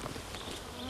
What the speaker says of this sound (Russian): Это комар.